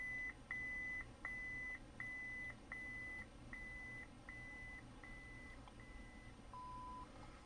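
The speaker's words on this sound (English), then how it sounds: "Anytime you're hearing those beeps when you're pressing this button, you're in the volume menu." A Neopixel lightsaber's volume menu gives a run of short, identical electronic beeps in a steady rhythm, nine or so evenly spaced, ending with a lower-pitched tone; clear and close with no talking.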